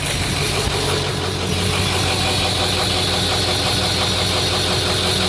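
A Ford 6.0L diesel engine runs at idle up close, a steady loud clattering rumble with a rhythmic knock throughout and no talking.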